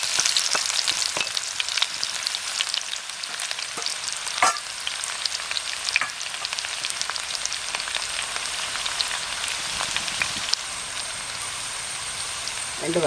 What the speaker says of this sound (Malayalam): കടുക് പൊട്ടി ഇതിലോട്ട് ഉള്ളി.